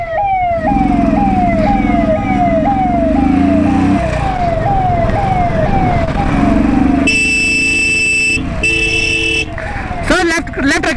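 A wailing ambulance siren sweeps up and down close by amid traffic noise, with someone shouting over it and other siren tones and horns joining later.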